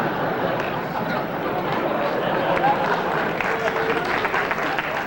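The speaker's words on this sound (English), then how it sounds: "You don't have to start the applause." Studio audience applause on a 1970s NBC late-night talk show, a dense, steady wash of clapping with crowd chatter underneath, lasting several seconds.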